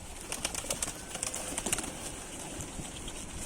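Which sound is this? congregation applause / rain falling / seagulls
seagulls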